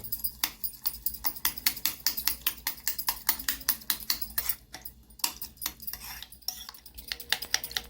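Eggs beaten with salt and a little turmeric in a bowl for an omelette curry, a fast steady run of close clinking taps of utensil against the bowl lasting throughout, with no talking.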